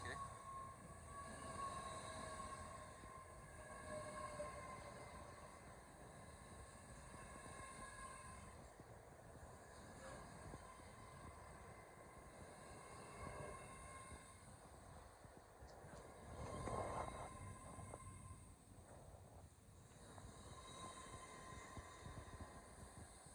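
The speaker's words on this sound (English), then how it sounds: "another one of LNER Zoomers coming from London King's Cross to Edinburgh Waverley" An LNER Azuma (class 801) train running through York station on the East Coast Main Line, from London King's Cross toward Edinburgh Waverley, heard as a steady rumble and hum with a brief louder swell near the end.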